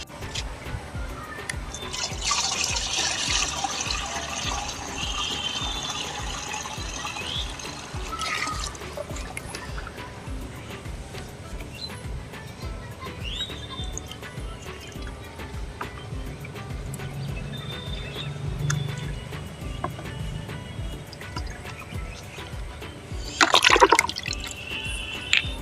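Water poured onto a dragon fruit plant, an irregular splashing and trickling that comes and goes over the clip, fairly close, with dripping and a brief louder splash near the end.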